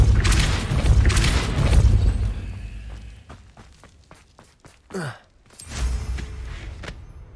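The Depulso spell cast in the Hogwarts Legacy video game: a heavy rumbling boom, then a run of quick taps and a swooping whoosh, with a fresh surge of noise at the end.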